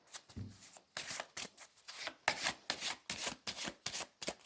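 Oracle cards shuffled by hand at close range, a series of quick papery riffling bursts in a steady rhythm with short pauses between them and no talking.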